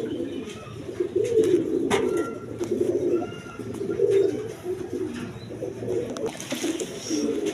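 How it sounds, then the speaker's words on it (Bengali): A pair of pigeons of a breed called ren, kept for sale, coo close by in low, repeated throaty rolls, with a few faint chirps and scattered background noise, and no speech. "দর্শকবৃন্দ এখানে এক পেয়ার রেন কবুতর আছে,"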